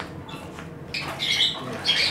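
Pet parrots squawking indoors in a home, harsh bursts rising after a quiet start, moderately close with a couple of louder calls near the end.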